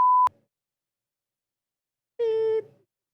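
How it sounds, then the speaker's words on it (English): A short steady electronic tone cuts off abruptly, followed by long silence, then a brief harmonic hum or voice-like tone near the end. "we're gonna beep his name out"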